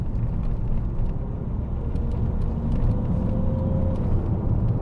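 A car engine drones steadily while running in gear, a dense low rumble that stays close and even throughout, with no voices.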